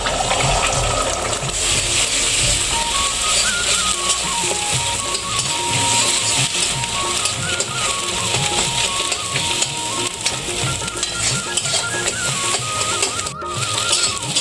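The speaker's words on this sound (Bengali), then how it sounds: "এবার ডিমটা দিয়ে দেবো, ভুজিয়া করে নেব ডিমের" Egg scrambles in hot mustard oil in a wok for egg bhujia, giving a steady, loud, continuous frying hiss and crackle that runs unbroken throughout, with a soft melody underneath.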